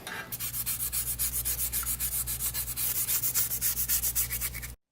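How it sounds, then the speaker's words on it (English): Rapid rhythmic scraping on the metal transmission pan of a 1960 Cadillac Series 62, dozens of even back-and-forth strokes removing paint, close and steady, ending abruptly. "And now we're just scraping the pan to remove any paint."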